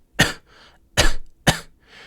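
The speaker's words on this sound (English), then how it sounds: "Coughing, if you devoice it, sounds like this." A person makes three short, breathy devoiced coughs, air pushed out without tone. They are close and separated by pauses, and a softer exhale follows.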